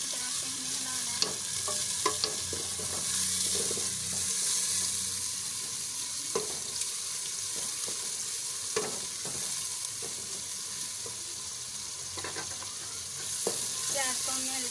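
Onions frying in a pan for a chicken curry, with a steady broad sizzle throughout, stirred now and then with scattered scraping and clinking of a utensil against the pan, close up and without voices.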